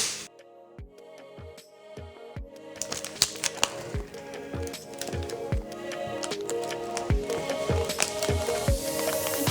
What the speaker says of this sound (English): Then I'm gonna use some more tape.